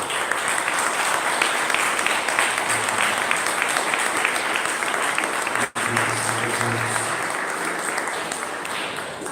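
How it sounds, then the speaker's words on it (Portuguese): A congregation applauds steadily after a sermon, a dense, loud wash of clapping filling the room without pause. "vamos aplaudir."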